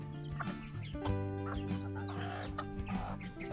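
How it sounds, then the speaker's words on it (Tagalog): Native chickens clucking on a farm, several birds giving soft overlapping clucks and calls close by in an open outdoor setting. "Ito yung mga alaga nating native na manok, mga kabayan."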